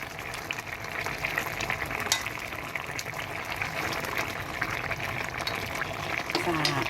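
Seasoning sauce poured into a pot of simmering braised pollock, a steady bubbling sizzle and liquid pour running continuously while a person talks over it.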